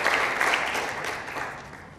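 Applause from an audience at an awards ceremony, many hands clapping together in a brief burst that fades over two seconds.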